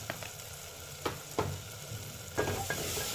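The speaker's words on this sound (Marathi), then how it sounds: "परतून घेऊया व्यवस्थित।" Dal khichdi tempering with turmeric being stirred and sautéed in a pot, soft sizzling under several distinct spoon scrapes and taps spaced a second or so apart.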